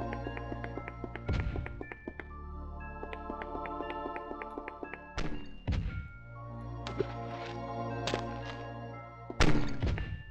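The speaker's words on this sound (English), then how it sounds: "I can hear explosions." Three heavy booming thuds from explosions in the video game Ultima 8: Pagan, spaced several seconds apart and sounding over steady layered game music.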